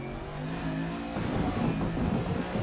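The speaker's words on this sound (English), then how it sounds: "That car sounds needy" A street racing car's engine idles and then revs up, its rumble growing louder and rougher partway through, heard from nearby with no clear speech over it.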